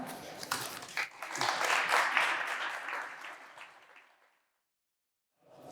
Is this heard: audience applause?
yes